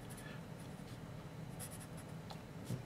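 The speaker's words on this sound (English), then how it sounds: "I'm going to go ahead and just write here" A Kitaboshi 9606 HB pencil writes on paper with a faint, close, continuous scratchy graphite drag and small stroke bursts in a quiet room.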